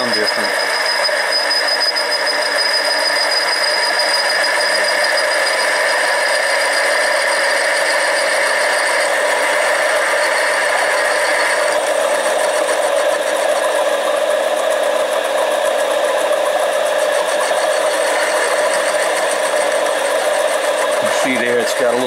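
Steady running of a Harbor Freight 7x10 mini lathe cutting aluminum tube, a constant whirring cut whose tone shifts partway through, close and continuous.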